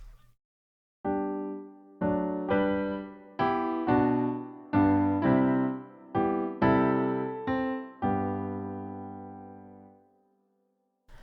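A solemn hymn-like passage of held chords, each struck then sustained, with a regular rhythm broken by gaps where beat two is skipped.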